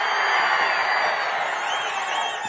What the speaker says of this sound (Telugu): గట్టిగా చప్పట్లు కొట్టి హుషారుగా ఉన్నామని చెప్పండి